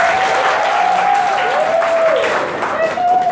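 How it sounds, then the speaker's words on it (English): An audience gives a round of applause at a talk on online marketing, steady dense clapping filling the whole moment at close range, with a sustained tone running underneath. "can we give him a round of applause?"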